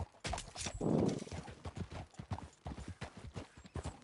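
Rapid video-game horse hoof clip-clops patter in an uneven rhythm, fairly close, with a brief soft horse snort mixed in.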